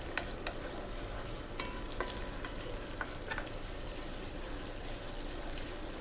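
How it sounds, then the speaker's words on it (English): Milk heating in a pot for a bechamel sauce, giving a steady close sizzle and bubbling hiss with faint scattered clinks, continuous and fairly quiet, with no talking. "I'm boiling the milk in the meantime to prepare the bechamel."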